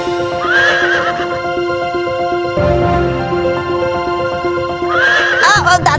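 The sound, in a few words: horse neighing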